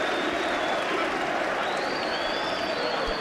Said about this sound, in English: all around the Trent FM arena, every single person is on their feet, applauding something which from the world of boxing was very, very special indeed